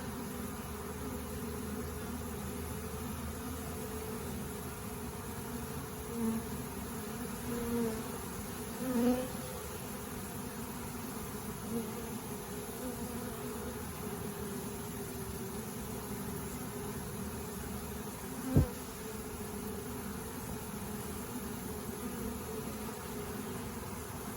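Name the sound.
honeybee swarm buzzing while being hived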